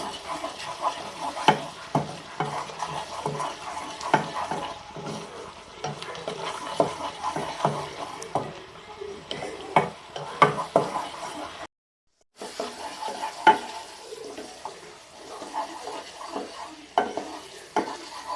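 Spice masala with salt and turmeric being sautéed in a pan for a spicy country-chicken curry, a steady soft sizzle broken by repeated scraping stirs and spoon knocks, with a brief silent break near the middle.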